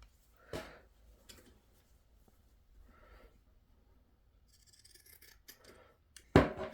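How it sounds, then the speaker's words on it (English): Scissors trimming a sewn seam on a fabric durag hat, soft snips and a faint rustle of cloth up close, then a loud crisp cutting sound at the end. "trim the seam."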